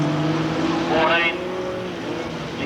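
Standard saloon cars racing at Drouin speedway in a ladies' state title event, engines droning together at a distance with a brief rise as cars pass, under a commentator's continuous talk.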